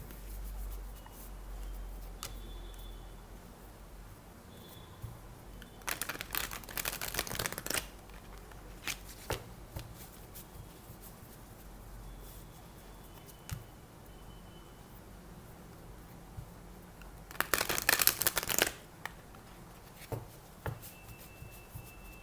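A deck of tarot cards being shuffled in a quiet room, two clear bursts of riffling about ten seconds apart, with faint ticks and handling noises between them and no speech.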